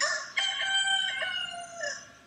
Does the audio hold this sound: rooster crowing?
yes